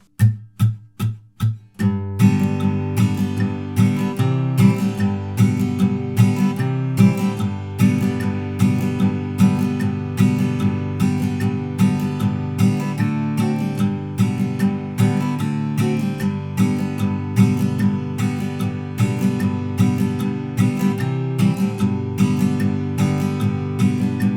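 Acoustic guitar strumming the chords of a song in a steady rhythmic pattern, with a metronome clicking evenly alongside. A few muted strums open the passage, then the playing stays loud and close throughout with no talk.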